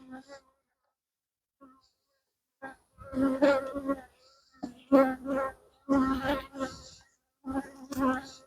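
Anatolian honeybees buzz close by around an open hive in uneven bursts, the drone rising and fading several times with short quiet gaps between.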